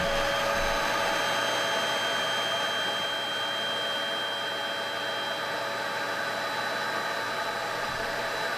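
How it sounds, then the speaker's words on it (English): A built-in air pump inflates an inflatable hot tub with a loud, steady blowing hiss and motor whine that holds constant throughout. "I was amazed that it has an air pump on here just to blow it up"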